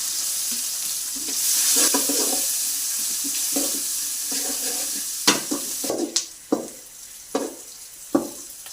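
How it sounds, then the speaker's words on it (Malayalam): Sliced onion fries in a pan of hot oil and is stirred for a mushroom curry. A soft continuous sizzle runs under repeated scraping spoon strokes that grow sharper and more clattery toward the end. "സവോള ചേർക്കുന്നു"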